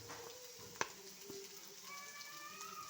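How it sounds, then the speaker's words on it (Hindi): Cabbage added to hot oil with onions, giving a faint, low sizzle with a sharp clink near the start and a softer tap after it, quiet and steady with no talking. "नेक्स्ट हम डाल रहे हैं इसमें बंद गोभी"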